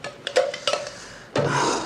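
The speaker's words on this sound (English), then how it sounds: "Please excuse the cutlery." Cutlery and dishes clink at a dinner table: a few light metallic taps and scrapes, then a louder, sustained clatter of pots and plates nearby, with no speech.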